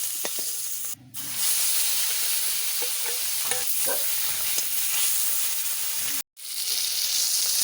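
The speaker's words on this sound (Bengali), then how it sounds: "মাছ ভাজা করে নিচ্ছি" Fish fries in hot oil in a pan with a loud, continuous crackling sizzle up close, broken by two short moments of near silence.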